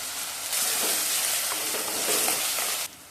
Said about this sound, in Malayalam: അതിലേക്ക് ഒരു പച്ചമുളക് ഇതുപോലെ ചെറുതായി വട്ടത്തിലരിഞ്ഞത് നല്ലതുപോലെ ഒന്ന് വഴറ്റിയെടുക്കണം